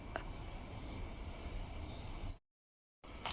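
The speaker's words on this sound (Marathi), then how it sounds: "आता फक्त रातकिड्यांचा आवाज येतोय मध्ये मध्ये." Crickets chirp steadily at night around 11 pm, a continuous high trilling drone over low background hiss that cuts out briefly before resuming.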